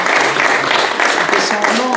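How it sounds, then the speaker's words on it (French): A crowd gathered at a radio station's inauguration claps for the cameraman, a continuous, fairly loud wash of applause with a voice audible in the background. "On peut l'applaudir également."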